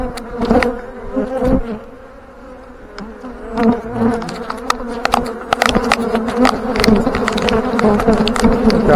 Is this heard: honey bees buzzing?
yes